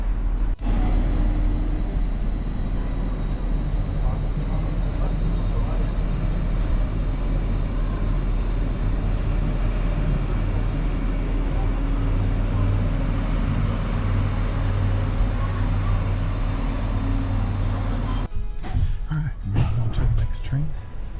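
Aboard the upper deck of a double-decker train in Germany, a deep, steady rumble of wheels and motion hums on at close range, shifting abruptly near the end.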